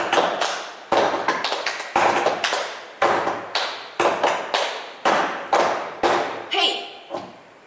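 A hand clapping and slapping game played at a faster pace: sharp claps and slaps in a repeating pattern of short bursts, loud and close, with no talking over them.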